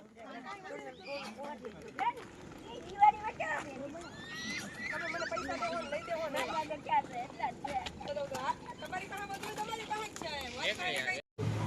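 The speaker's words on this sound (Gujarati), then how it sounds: "હવે રીધમ બેન ઘોડીએ સવાર થયા છે" A mare carrying a young rider neighs, with hooves clopping, at an outdoor village gathering. A busy murmur of voices and chatter runs throughout, with one sharp louder burst partway through.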